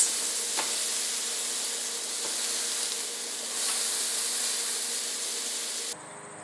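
A giant puffball mushroom steak sizzles in a pan, a steady close hiss of frying that continues unbroken before cutting off abruptly near the end.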